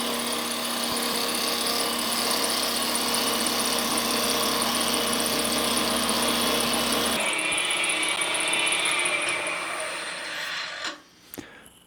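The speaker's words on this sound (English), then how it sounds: "I'm going down in sections and just making the kerf wider than the parting tool." A parting tool on a wood lathe cuts into a spinning wooden box blank, a steady whirring drone with a rough scraping, ratchety chatter for about seven seconds. It then eases off into a lighter hum and ends with a few knocks.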